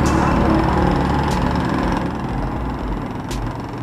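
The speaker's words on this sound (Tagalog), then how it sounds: "Para siyang generator, no?" A steady motor hum like a generator runs near a riverbank rail line, a low, even drone at moderate distance with a faint rhythmic pulse and no talking.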